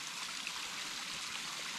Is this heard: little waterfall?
yes